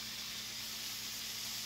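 Turkey bacon sizzles on a flat griddle, a faint, steady, broadband hiss with no talking over it.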